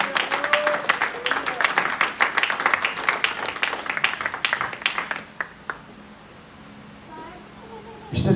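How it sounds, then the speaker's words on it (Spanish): A church congregation claps loudly in quick, irregular bursts, then the applause dies away into quieter room sound with a voice speaking at the end. "Denle un fuerte aplauso al Señor"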